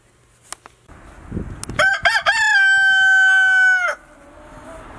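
Rooster crowing once loudly and close by, a drawn-out cock-a-doodle-doo lasting about two seconds after some soft clucks and scratching sounds from the flock.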